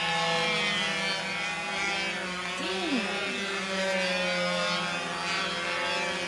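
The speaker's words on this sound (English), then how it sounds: "Come on, engine." A Windy Y Master 920 model aircraft engine runs at a steady, loud, high-pitched buzz throughout, close by and constant, with faint outdoor background and brief voices underneath.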